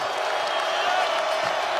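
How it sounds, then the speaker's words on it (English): Basketball arena crowd at the Yum Center in Louisville, a loud, steady roar of many voices cheering and whooping, broad and continuous throughout, with a commentator's voice faintly blended in. "Crowd starting to get loud here at the Yum Center."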